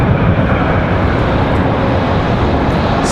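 A JetBlue Airbus A220 in new livery climbs away at Raleigh-Durham International Airport, a loud, steady broadband jet roar that holds without pause and stays close throughout.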